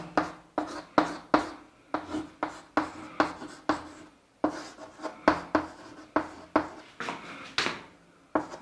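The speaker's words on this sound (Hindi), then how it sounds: "उस सवाल को मैं लिख देता हूं।" Chalk or marker writing a chemistry problem on a board, a rapid series of short scratchy strokes with brief pauses, close and clear with no talk.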